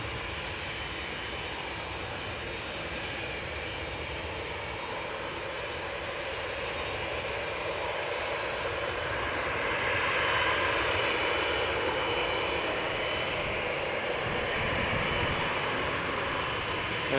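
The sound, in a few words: Boeing 787 Dreamliner taking off at Amsterdam Schiphol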